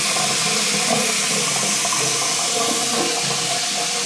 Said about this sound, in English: And everything I'm turning on is just the hot water.